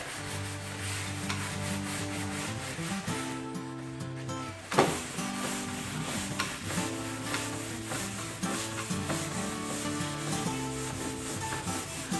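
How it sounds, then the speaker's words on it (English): A teak mid-century dining table surface is scrubbed dry while being stripped, with continuous rhythmic rubbing strokes that are close and fairly loud, broken by one brief knock partway through, and no talking. "Scrub it dry."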